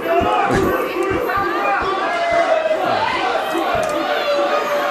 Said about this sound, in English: This crowd raucously behind Ryan Slade here tonight